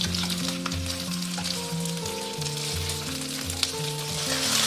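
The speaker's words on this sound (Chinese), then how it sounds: "锅中倒少许食用油，接着下入芋头糕，中小火慢煎。" Taro cake with Chinese sausage and cured pork pan-frying slowly over medium-low heat in a little cooking oil, a loud, steady sizzle running throughout with a low hum underneath.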